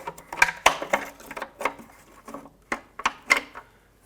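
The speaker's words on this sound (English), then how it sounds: "Now let's just get this harness off of here, unclip it, and twist the bulbs counterclockwise to pull them out" Plastic clicks, snaps and twisting rattles come from unclipping a wiring harness and turning the bulbs out of a taillight on a 1996-2002 Toyota 4Runner, a quick irregular series of close, sharp handling noises.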